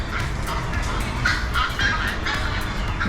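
A bird calls repeatedly from a tree in a Brisbane park, with a series of short, fairly close honking squawks over steady outdoor background noise.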